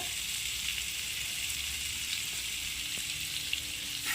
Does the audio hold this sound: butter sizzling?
yes